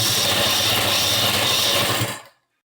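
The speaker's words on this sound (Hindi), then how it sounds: "तो आधे इंच का मार्जिन लेते हुए आपको इस तरीके से सिलाई लगा लेनी है।" A sewing machine stitches trouser fabric with a dense, loud, steady mechanical whir that runs for about two seconds and then stops abruptly.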